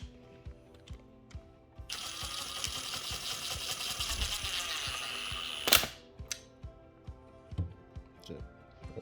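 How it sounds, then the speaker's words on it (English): An impact wrench snugs the clutch cover bolts on a Yamaha Warrior 350 ATV in a loud, sustained burst of rapid hammering of about four seconds, then a sharp final hit. Lighter clicks and taps of tool handling come before and after. "We're just going to snug these up with an impact."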